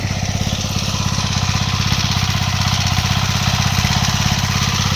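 A hand tractor's engine runs steadily in a farm field during land preparation for tomato planting, with a loud, close, rapid pulsing chug that continues without a break.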